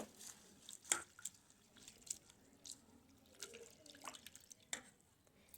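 Flattened rice (chira) is rinsed in a bowl of water and strained repeatedly, giving faint close drips, splashes and squishy handling noises spaced irregularly.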